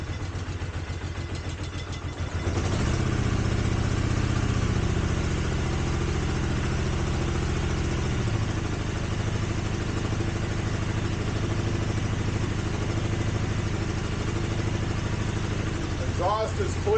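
A 1983 Honda GL650 motorcycle, left out in the weather for over thirty years, catches and settles into a steady, loud idle with a continuous clattery engine drone after a brief rough cranking start.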